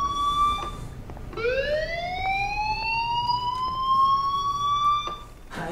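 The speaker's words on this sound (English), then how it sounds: "do you hear that fire alarm? That means you should be outside." A fire alarm sounds inside the video game Life is Strange: a loud electronic wail that sweeps steadily upward in pitch and then holds, carrying bright harmonics, with no talking over it.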